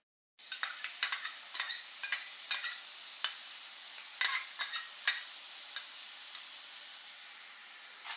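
Roasted coconut with cardamom and condensed milk being stirred in a pan for coconut ladoo, a spoon scraping in a steady series of soft clicks over a faint sizzle, with no talking.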